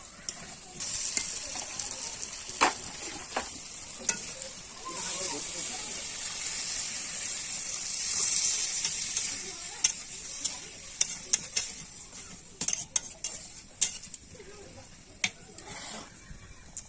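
A pot of meat curry gravy starts to boil, giving a soft, steady hiss and bubbling sizzle with occasional clinks and stirring. Voices can be heard at times.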